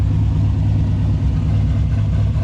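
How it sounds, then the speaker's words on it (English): A turbocharged LS V8 in a Chevrolet C10 idles on a freezing cold start with the exhaust cutout open, a loud, deep, continuous rumble with no pauses or revving. "I've got the exhaust cut out and dumping right here."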